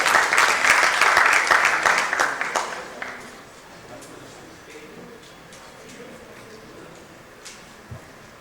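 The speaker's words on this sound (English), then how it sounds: "So, a big round of applause to our esteemed panelists here." An audience at a maritime career summit panel applauds in a burst of loud, dense clapping that fades out after about three seconds, leaving a quiet hall with faint scattered sounds.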